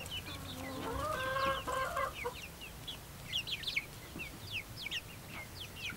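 Young backyard chickens about eight weeks old, a Buff, a Welsummer and a Barred Plymouth Rock, cluck and chirp close by, with a rising peeping trill early on, then scattered short chirps and soft clucks.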